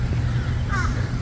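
A single crow caws once, fairly close, over a steady background hum.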